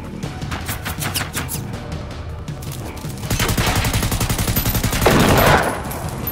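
Loud, dense automatic gunfire from the video game Generation Zero: sustained rapid volleys crackle close up, with a heavier burst near the end.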